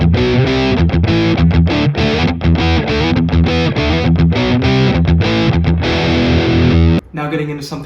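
An electric guitar driven through a biting, metal-oriented distortion pedal on a Boss Katana amp plays a loud, continuous riff of rapid chugging notes, which cuts off abruptly near the end to a brief ringing tail.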